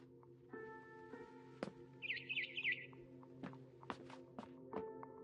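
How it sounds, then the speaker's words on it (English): A barn swallow chirps outside a window in a video game, a short rapid twittering burst at middle distance among faint taps and footstep-like thumps in a quiet room. "Then I heard chirping outside my window. It was a barn swallow going back to her nest."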